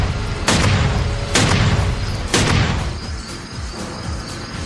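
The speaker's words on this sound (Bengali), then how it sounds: "রিভলভারটা হাতে তুলে নেয়, মূর্তিটাকে লক্ষ্য করে কয়েকটা গুলি করে সে" Revolver shots in a ghost story set in a cursed bungalow, three loud booming blasts spaced about a second apart, each trailing off into a rumbling echo.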